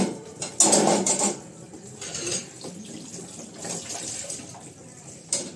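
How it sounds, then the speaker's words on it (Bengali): Dishes and bowls clatter and scrape in a sink under running tap water, with a loud burst of splashing early on and then steadier washing noises and a final clink. "তো হয়ে গেল আমার বাসন ধোয়া"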